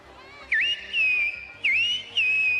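A person whistles in imitation of a small bird's call, two clear repeated whistled phrases with a swooping dip then a level tone, close and loud over a faint low background hum.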